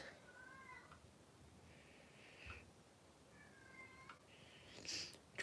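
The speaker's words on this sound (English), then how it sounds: "the cat always likes to cry" Faint, distant cat meowing in a quiet room, several drawn-out wavering cries spread over a few seconds with soft rustles between them.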